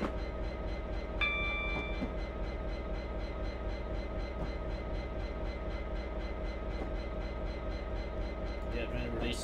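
A train in the Train Simulator video game rolls along with a steady low rumble and rhythmic clatter while the brake is applied, a brief tonal whistle sounding early on, and someone talks over it.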